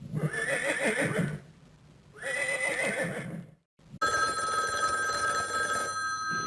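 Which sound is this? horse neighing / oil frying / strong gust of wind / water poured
horse neighing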